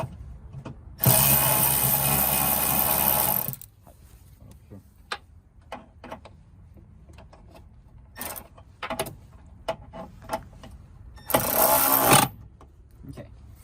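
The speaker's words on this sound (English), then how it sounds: "So we're gonna tighten this first, then the middle one," Bolts tightened one after another with a power tool: two loud sustained bursts of whirring and rattling, separated by a quieter stretch of short clicks and knocks.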